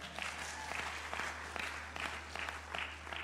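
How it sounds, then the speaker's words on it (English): An audience at a concert in a church-style service claps along to a preacher's call, fairly faint rhythmic clapping with regular accents over a low steady hum. "Give him a hand clap."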